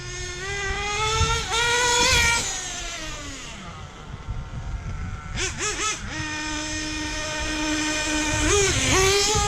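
A Hobao Hyper VS2 nitro RC buggy engine screams at high pitch, close and loud. It revs up and down in sharp swoops with a chirping, lean-sounding edge, then drops back to a steady idle between bursts.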